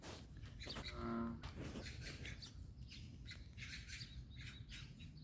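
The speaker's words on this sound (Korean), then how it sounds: "와와 하면서 황소개구리가 있는 모양입니다." A bullfrog croaking at a lotus pond outdoors, one faint, distant, low droning croak early on, set against quiet outdoor ambience with scattered bird chirps.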